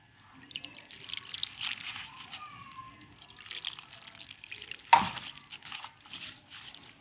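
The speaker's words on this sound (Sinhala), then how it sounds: "දැන් අපි වතුර දාගමු තැම්බෙන්න." Water is poured into a pot of fish and capsicum curry to simmer, heard as soft dripping and trickling with a brief louder splash midway, fairly quiet and close.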